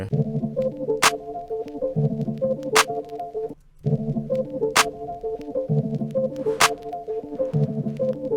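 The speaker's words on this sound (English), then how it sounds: "let's start with a clap" Sharp, bright drum machine clap hits land four times at a steady pace over a looping electronic drum pattern, with one short break in the middle.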